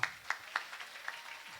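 A few sharp hand claps, loud at first then fading into softer, scattered claps, heard faintly with no talking.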